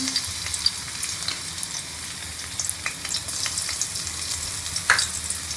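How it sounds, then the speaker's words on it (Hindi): Steady crackling sizzle of garlic paste frying in hot ghee in a kadai, close and moderately loud, with occasional scraping stirs and pops. "ये मैंने कढ़ाई के अंदर घी को डाल दिया, इसके अंदर ये लहसुन का पेस्ट डाल दूंगी।"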